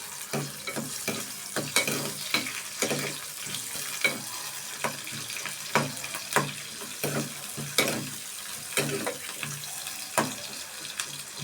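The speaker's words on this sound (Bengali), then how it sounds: "কচুগুলো নাড়তে থাকবো ব্রাউন কালার আসা পর্যন্ত।" Chopped onions fry in a pan, a soft continuous sizzle broken by regular scraping stirs from a spatula, close and moderately loud with no talking.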